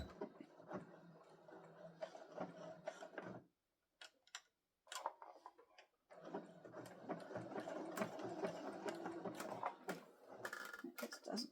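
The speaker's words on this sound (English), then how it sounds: "now I'm just gonna stitch." A sewing machine stitches pinned fabric during holiday sewing, producing a rapid, even mechanical ticking and whirring. The sound runs in bursts, drops out to near silence for a couple of seconds, then resumes and continues steadily.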